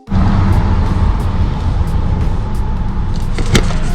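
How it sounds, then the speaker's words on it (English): Old car's engine running roughly just after starting, a loud continuous low rumble with an uneven, shaky idle and a brief clunk near the end. "Idles at like 200 RPM and shakes the whole car"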